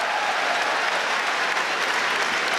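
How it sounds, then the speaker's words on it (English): Basketball crowd in an NC State arena applauding a player checking in for his debut, a dense, steady wash of clapping that fills the whole moment. "And Rice gets a nice hand from this crowd"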